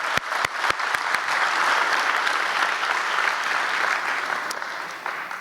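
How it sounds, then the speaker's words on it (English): Audience applause at a university graduation ceremony, opening with a few distinct sharp claps that quickly swell into steady, full applause from a large crowd that holds for several seconds. "we want to applaud you also"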